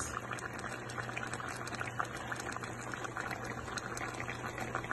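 Oyster sauce chicken simmers in a pan with soy sauce added, giving a faint, steady bubbling and sizzling that runs on without pause.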